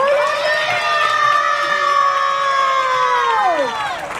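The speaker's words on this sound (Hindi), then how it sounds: "जोर से ताली बजाओ।" A church congregation at a seventh anniversary celebration raises a loud, sustained cheer of shouting voices that holds for several seconds before tailing off, with little distinct clapping.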